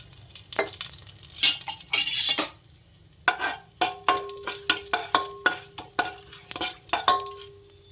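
Whole spices and cumin fry in ghee for bagara rice: a soft sizzle punctuated by a run of sharp, ringing metal ladle clinks against the pan.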